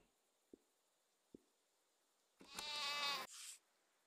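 A goat in the video game SEASON: A letter to the future gives one loud, close bleat, then a shorter tail, after two faint clicks in a quiet scene.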